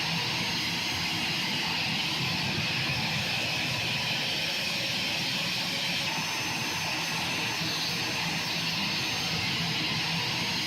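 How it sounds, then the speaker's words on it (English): An Eclipse 550 NG light jet in X-Plane 11 gives a steady, unbroken engine roar and high whine that holds at an even level throughout, with no talking. "This little plane is so fun to fly."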